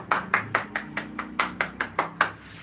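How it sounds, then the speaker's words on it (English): Eleven crisp, evenly spaced hand claps in a quick steady rhythm, each sharp and close with a short ringing tail, played alone as a clap sound effect. "How do I make this clap sound on TikTok?"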